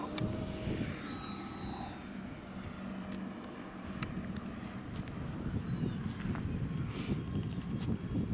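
A radio-controlled Zero fighter model airplane flies overhead, its engine a faint steady drone against outdoor wind noise, with a few light clicks scattered through.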